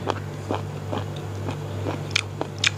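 Crunchy squid in a spicy Thai papaya salad bitten and chewed close up, a steady run of crisp crunches about every half second with sharper snaps near the end, over a low constant hum.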